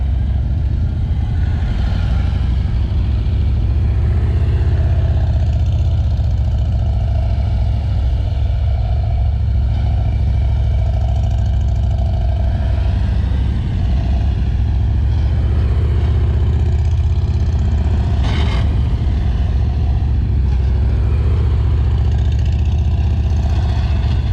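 Three motorcycles riding past in a rider training exercise, their engines a loud, steady, close drone that holds throughout with slight swells as the bikes rev.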